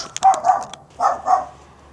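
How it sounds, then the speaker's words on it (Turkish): Two pairs of sharp dog barks sound at moderate distance on a village street at night in Thailand, quick double yaps separated by a brief pause, with no talking. "Köpekler başladı yine."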